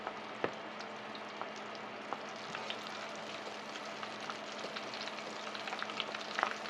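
Colossal shrimp deep frying in 350 F oil give off a steady, dense sizzle and crackle with small pops throughout, close up and with no voices.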